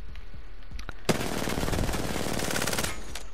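R99 submachine gun firing in Apex Legends, a long sustained automatic burst that kicks in abruptly after a quiet second and runs loud and continuous to the end, with rapid regular shots layered over game sounds.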